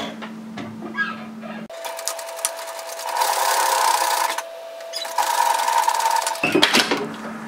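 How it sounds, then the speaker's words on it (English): A sewing machine runs an edge stitch to close an opening in a fabric band on a gathered-sleeve raglan top, a steady close mechanical whir with a brief pause midway and a short stop at the end, no talk. "just sew an edge stitch to sew that opening closed"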